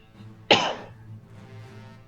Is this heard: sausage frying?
no